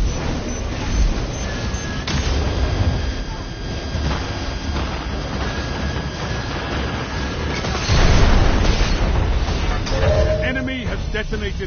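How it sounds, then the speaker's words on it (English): A detonated charge explodes in the video game Destiny 2, a heavy rumbling boom that swells late and sits under ongoing game noise and voices. "Detonated the charge."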